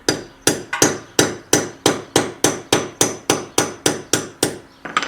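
A hammer drives an anchor bolt into concrete while anti-vibration pads are fitted under compressor legs, with about a dozen sharp, loud, evenly spaced metallic blows close by and no talking.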